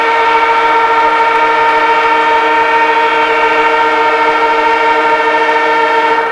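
A football ground siren sounds the end of a quarter at a 1989 VFL match between North Melbourne and Richmond: one loud, sustained, steady tonal wail that lasts the whole clip without a break.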